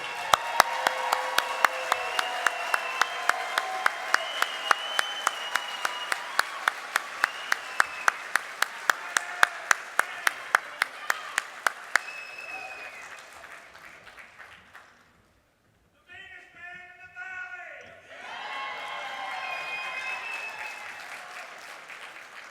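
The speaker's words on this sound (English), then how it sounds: "Please give another round of applause for our 3 posthumous inductees" Applause fills a banquet hall at a sports hall of fame ceremony, with steady rhythmic clapping that fades toward a brief lull before crowd noise and cheering rise again.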